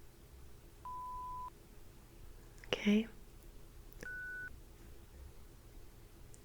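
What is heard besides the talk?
scanner beeping at different frequencies, ASMR cyberpunk exam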